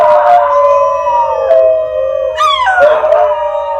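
Several New Guinea singing dogs howl together up close and loud, their tonal voices overlapping, with one call rising high and sliding back down while the others hold steady pitches.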